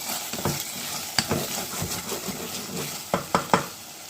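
Ginger garlic paste sizzles in a pan while a spoon stirs it for a chicken curry, giving a steady frying hiss broken by sharp scrapes and clinks near the mic.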